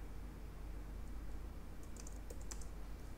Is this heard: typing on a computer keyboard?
yes